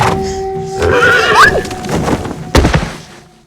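A horse neighs in a 2015 horror film set in the countryside, one loud rising whinny near the middle, with hoof clatter and a heavy thud after it.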